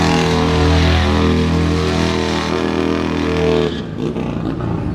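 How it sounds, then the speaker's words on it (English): A car at a Bay Area street-racing meet does a burnout, roaring loud and close with a sustained engine drone. The noise drops off sharply near the end, leaving a rougher, quieter rumble. "Someone's burning tire already?"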